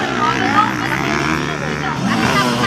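Loud racing motorcycle engines roar and whine continuously as they race past, with a crowd murmuring underneath.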